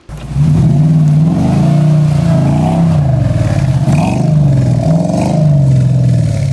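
UAZ off-road vehicle fitted with a V8 engine revving loudly and continuously, its deep rumbling note rising and falling through several throttle blips, close up with no talking.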